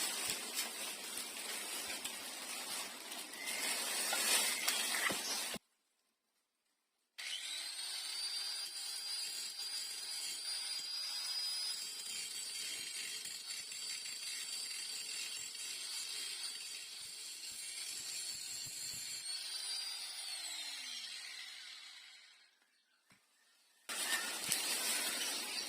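Angle grinder smoothing welds on a refrigerator compressor, a loud sustained high-pitched whine that spins down near the end, with a brief silent gap early on and rougher grinding noise at the start and finish.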